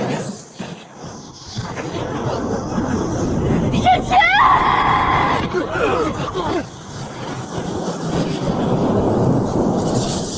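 Heavenly tribulation lightning in an animated cultivation drama crackles and rumbles as a continuous dramatic thunder effect, with a sharp bright strike midway, mixed under voices.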